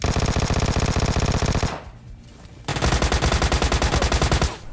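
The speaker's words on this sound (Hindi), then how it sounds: "मुझे काफी सारे गन शॉट्स की आवाज आती है" Automatic gunfire in the video game PUBG Lite rattles in two long, rapid bursts of loud, evenly spaced shots, separated by a short lull of quieter background.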